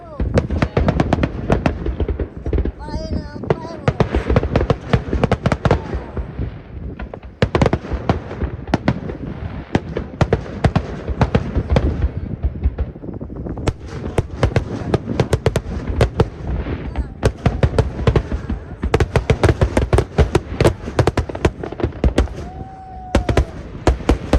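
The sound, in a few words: fireworks over a river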